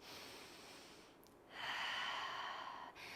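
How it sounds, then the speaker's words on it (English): Slow, deep breathing during a stretching session, a soft inhale followed by a longer, stronger airy exhale, close and quiet with no talk. "Just take a couple of deep breaths."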